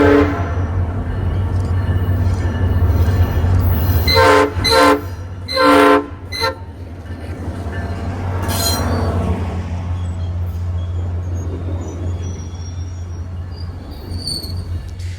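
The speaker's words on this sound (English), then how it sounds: "Next is southbound 320 with Loco 101 at the lead, feat a rather nice sounding P5 horn." SunRail southbound train 320, led by Loco 101, rumbles past with squealing wheels while its P5 horn sounds in several loud blasts, then the train noise fades into a lingering rolling hum.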